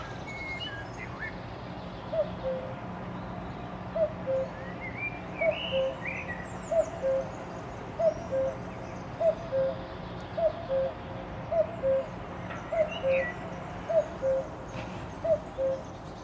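Birds calling from trees in an urban setting, one voice repeating a short hooting note at a steady pace of roughly one call per second over a constant low city hum, with fainter chirps scattered in the distance.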